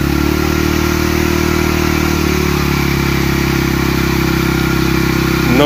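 A motorcycle engine runs through floodwater on a main road near Mangla Dam, Raipur Dadyal. A loud, steady engine drone continues throughout and rises briefly in pitch at the very end.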